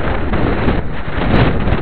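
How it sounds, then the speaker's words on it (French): Loud, steady gust of storm wind roaring into the microphone during a windstorm, a dense continuous rush filling the whole moment with no voices. "Ah, là, par contre, ça, c'est un gros coup de vent,"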